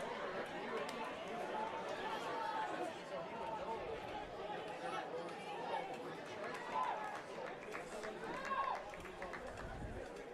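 A loud crowd at an NPSL soccer match between Flower City Union and Michigan Rangers FC, with steady broad chatter and cheering from the stands and a few whistles and calls poking through. The noise is fairly distant and continuous.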